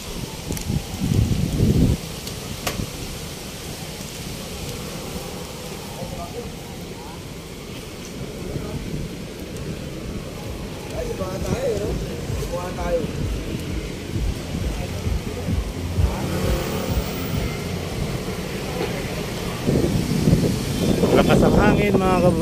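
Strong wind buffets the microphone while cycling outdoors on a Metro Manila bike route, a steady rumbling roar that swells louder near the end, with someone talking intermittently over it.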